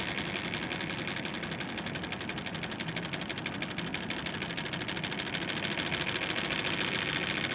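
A Bedini North Pole motor spins counterclockwise with a fast, even electric whir and rapid buzzing pulses. The sound holds steady and close throughout, with no talking.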